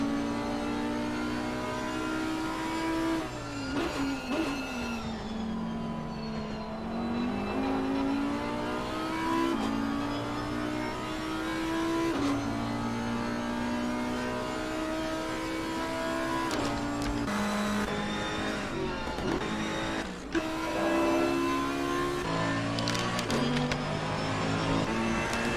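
Race car engines from Assetto Corsa Competizione at Bathurst, including a McLaren, roar continuously and loud with rising and falling revs through gear changes and a brief downshift dip, with no voices.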